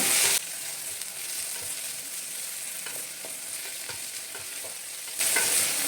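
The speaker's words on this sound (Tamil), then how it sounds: "கொஞ்சம் நேரம் வதங்கட்டும் புதினா நல்லா வதங்கிச்சுங்க" Mint leaves sauté in a hot pan, a steady soft sizzle running throughout, with a louder hiss at the start and end and light scraping taps of stirring scattered through the middle.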